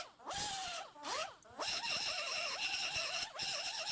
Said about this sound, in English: We're going to start with the grinding wheel.